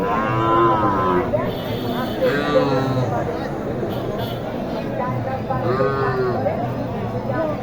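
Cattle, Sahiwal heifers among them, moo repeatedly at the Mataji cattle market in Naogaon. Several drawn-out, loud moos rise over a constant crowd hubbub, with people talking nearby.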